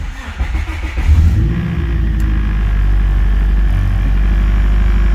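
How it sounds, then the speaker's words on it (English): A Honda or Acura fitted with a Haltech Elite 550 engine computer cranks briefly, then catches and settles into a loud, steady low idle rumble up close. "Not only when this car starts, watch the idle too"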